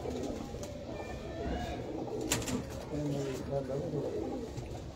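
Low, murmuring coos from a female pigeon on a rooftop loft run steadily under faint background chatter and open-air hiss.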